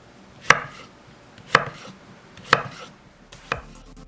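A knife cutting lengthwise-quartered zucchini into 1.5 cm thick slices on a cutting board, four crisp, evenly spaced chops about a second apart, close and clear.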